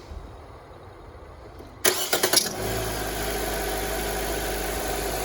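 A car engine cranks with a few sharp starter bursts, then catches and settles into a steady, loud idle that runs to the end.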